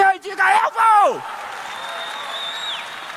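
Applause from a church congregation during a baptism service, a steady wash of clapping after a brief spoken phrase at the start, moderately loud and continuing to the end.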